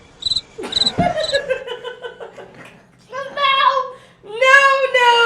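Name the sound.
crickets chirping sound effect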